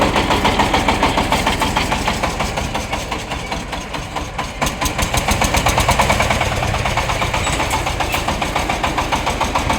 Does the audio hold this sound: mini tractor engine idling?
yes